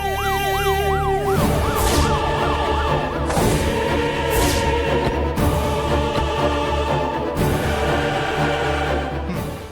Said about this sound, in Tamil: ஏதோ சைரன் சத்தம் கேட்கிற மாதிரியே இருக்குல்ல?